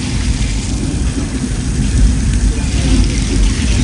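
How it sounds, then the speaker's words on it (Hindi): Dense, steady hiss of simulated heavy rain with a deep low rumble of simulated thunder underneath, from a flash flood effect at Universal Studios Hollywood, loud and continuous throughout. "सब थंडरिंग बारिश हर चीज नकली."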